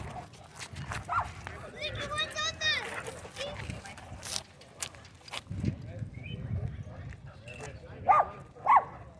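Dogs barking at a dog park as a pack swarms an unaltered Shar Pei, with short scattered barks and yips, some close and sharp near the end, under frequent talking and movement.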